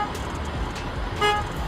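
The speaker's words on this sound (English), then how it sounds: "That dog is barking and honking at the same time." A dog sets off a truck horn: a brief honk with a clear tonal blare rising just after a second in, over a steady low background hum.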